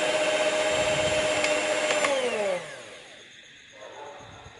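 An electric mixer beats sponge cake batter with a loud, close whirring drone that winds down and stops partway through, leaving softer handling noise afterward.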